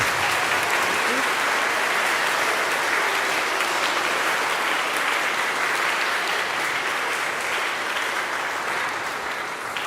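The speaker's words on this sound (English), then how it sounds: "let's give one last round of applause to the class of 2024" Sustained, loud applause fills a school eighth-grade recognition ceremony for the graduating class of 2024, a dense continuous roar of many clapping hands throughout, with faint crowd murmur beneath.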